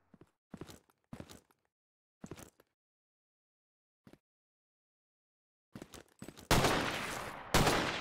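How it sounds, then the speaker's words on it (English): Gunfire in the survival shooter ZERO Sievert during a battle in a mall: scattered short bursts of shots with quiet gaps, then a loud, sustained roar of heavy firing near the end. "we're walking towards a gunfire"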